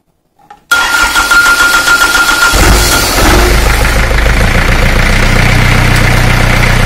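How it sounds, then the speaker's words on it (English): A car engine cranks briefly, catches and starts, then settles into a loud, steady idle close by. "Now once the engine is started, it should go off."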